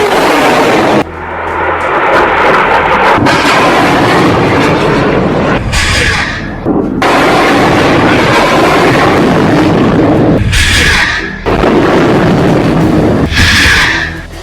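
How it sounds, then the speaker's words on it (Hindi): Hamas rockets launched one after another, a near-continuous loud roaring rush broken by brief dips as successive launches take over, filling the whole span with heavy, broad noise. "एक के बाद एक हमास 10 रॉकेट फायर करता है।"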